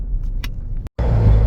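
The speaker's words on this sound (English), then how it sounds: "So sorry about the wind noise, but I'm currently on the highway doing about 68." Steady rumbling wind and road noise inside a 3.6L Jeep JK with an 8-speed transmission at about 68 mph on a highway, loud and close, broken by a short silent dropout before swelling again.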